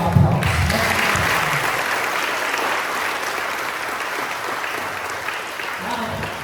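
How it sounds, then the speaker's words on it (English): An evening Christmas cantata audience gives a dense, sustained round of applause that fills the room for the whole stretch, with a voice briefly audible at the start and again near the end. "round of applause"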